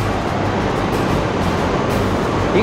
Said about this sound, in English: These waves are insane.